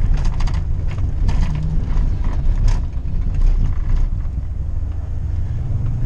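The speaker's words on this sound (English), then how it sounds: "So we're just driving around the turnaround right now." A car drives slowly around a plowed turnaround on a frozen lake, its steady engine rumble and tire noise mixed with constant wind buffeting the microphone.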